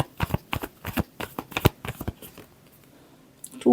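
Tarot cards are shuffled by hand in a run of quick, crisp riffling bursts that thin out and stop near the end.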